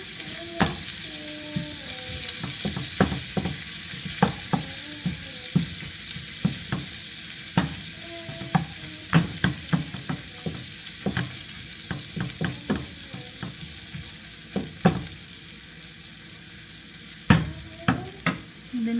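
Corned beef fries in a pan with a soft background sizzle, punctuated by frequent sharp scrapes and taps of a spatula stirring against the metal.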